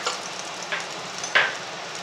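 Chicken ghee roast sizzling as ghee is poured into the hot pan, with a steady fry hiss broken by a few brighter crackling bursts.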